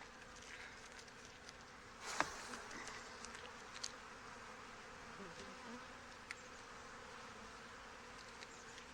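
Honey bees buzz around frames lifted from a hive, a steady, fairly quiet swarm drone with a few brief knocks and clicks.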